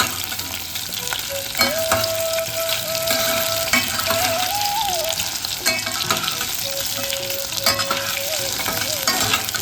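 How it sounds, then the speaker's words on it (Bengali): Potatoes fry in a pan with a loud, continuous sizzle and crackle that lasts the whole stretch, broken by occasional sharp spatters. A thin steady tone runs faintly underneath, and no one talks. "আলুটাকে কিন্তু ভালো করে ভাজতে হবে।"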